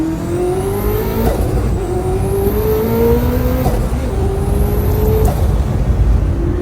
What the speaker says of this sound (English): So I put on this responsive turbo, and at least I will get some improved sounds of the turbo